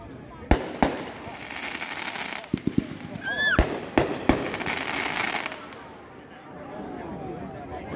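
Consumer firework assortment going off outdoors: a string of sharp, loud bangs and cracks with rising whistles between them, bursts coming in irregular clusters, then fading to distant crackle.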